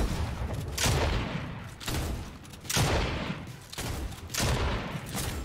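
Pump shotgun fired rapidly in the Fortnite video game, a string of five or six heavy booming blasts about a second apart, each trailing off, fairly loud with no talk.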